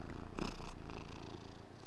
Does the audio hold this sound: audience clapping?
no